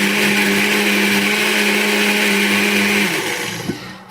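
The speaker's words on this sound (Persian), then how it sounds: "بعدم میذاریمش روی بلندر" An electric blender whirs loudly through spices and salt for pizza sauce, a steady high motor whine that holds, then spins down and stops with a small clunk at the end.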